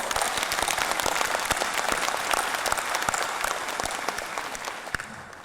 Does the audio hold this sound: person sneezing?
no